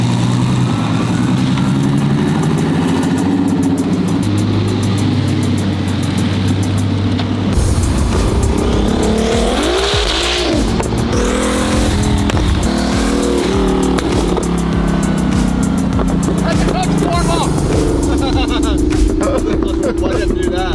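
A boosted Lamborghini Huracan's engine idles loudly up close, then revs and accelerates away with rising and falling roars before settling into a steady driving drone, with voices talking faintly over it.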